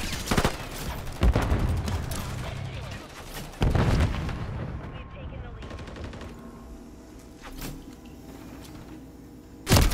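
Submachine gun fire in an online shooter game, several sharp bursts of shots spaced across the stretch with fainter distant firing and game noise between them.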